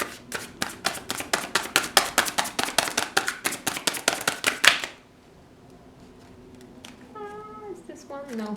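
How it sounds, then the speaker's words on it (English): Close, rapid riffling of a tarot card deck runs in quick rhythmic bursts for about five seconds, then stops; after a short quiet pause a cat meows several times. "let's keep shuffling."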